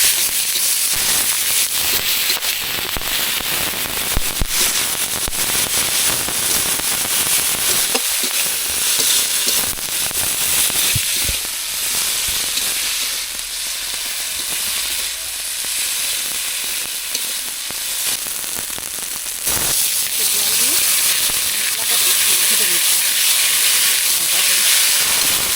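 Turmeric and chili paste sizzle hard in a frying pan for a Bengali silver carp fish curry, a loud, continuous hiss with stirring scrapes, close up and steady.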